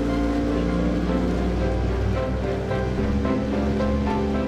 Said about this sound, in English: sometimes Lough Derg can be a bit choppy. The wind is pretty strong today.